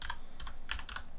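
Quick bursts of typing on a computer keyboard as a password is entered, roughly seven or eight clustered keystroke taps over about a second, close and fairly quiet with no voices.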